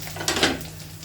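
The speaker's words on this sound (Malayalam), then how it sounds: "ചട്ടിക്കകത്ത് തന്നെ നമുക്കിതൊന്ന് വഴറ്റിയെടുക്കാം" Vegetable pieces for avial sauté in a pan, giving a brief, moderately loud burst of scraping and sizzling as they are stirred.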